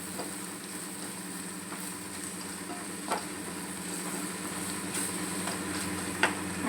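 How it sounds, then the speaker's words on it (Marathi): Spices being stirred into cooked onions in a pan for prawn masala: a steady soft sizzle with faint scraping strokes and a few light clinks of the spoon against the pan, fairly quiet throughout. "मसाले चांगले मिक्स करून घेऊया"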